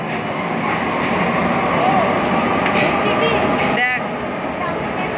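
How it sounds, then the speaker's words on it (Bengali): A Kolkata metro train pulls into an underground station with a loud, steady rumble and roar echoing through the platform, with a faint high squeal near the end. "মেট্রো ঢুকে গেছে।"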